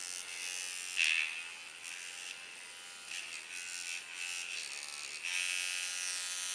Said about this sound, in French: On va la régler à 6 volts pour faire des ombrages. Et on desserre la molette pour faire claquer le ressort.